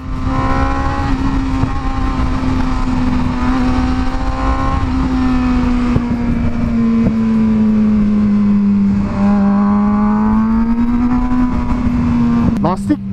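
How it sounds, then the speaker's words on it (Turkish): A crash-damaged Suzuki GSX-R 750 motorcycle revs loudly in first gear. A close, continuous engine drone rises and falls in pitch over steady wind rush. "Ben şu tekrar şu gazı bir açmak istiyorum birinci vitesle."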